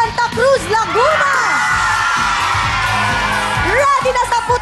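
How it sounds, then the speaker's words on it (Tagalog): A crowd of people from San Mateo, Rizal shouts and cheers in a loud burst of whoops and yells, with an announcer's voice mixed in over the noise. "Sumigaw na ang mga taga San Mateo, Rizal."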